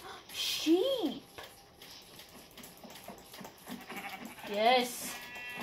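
Sheep in a video game village give two bleats, one early and one near the end, while a voice talks over the game sounds.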